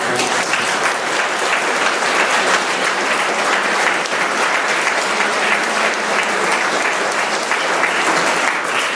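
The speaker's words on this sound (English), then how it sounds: "let's give a round of applause for our" A full room applauds at an evening event on student homelessness, producing loud, dense, sustained clapping that holds evenly for the whole stretch without a break.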